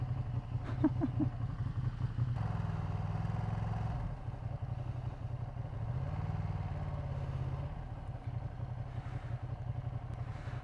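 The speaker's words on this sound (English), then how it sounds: "it sounds like One of the worst exhaust notes I've ever heard" A Ducati motorcycle engine idles and revs with a rough, rumbling exhaust note, steady low drone rising and falling, fairly close, no talking.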